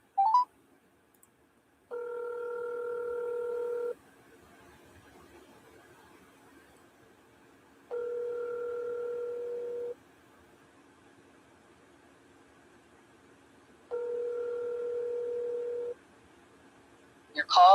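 An outgoing telephone call ringing: a short tone at the start, then three steady ringback tones, each about two seconds long, separated by quiet gaps, with a brief sound at the very end.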